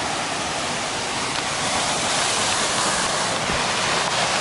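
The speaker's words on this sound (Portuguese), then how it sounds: "Tem uma cachoeira, velho." Steady roar of a waterfall on a farm in Cabreúva, Brazil, filling the whole span with dense, broadband rushing water, close and loud, with no voices over it.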